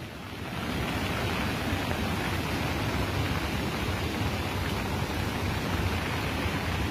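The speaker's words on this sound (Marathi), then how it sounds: "आला बा देवना नदीले पूर" Flooded Devna river water rushing near Shendurjana Ghat in Amravati after heavy rain, a steady loud broadband roar that swells in during the first second and then holds without a break.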